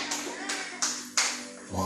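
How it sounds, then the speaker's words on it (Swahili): A church congregation claps for Jesus in a few loud, irregular hand-claps that sound close, with a brief voice heard at the end. "Pigie Yesu makofi mazuri."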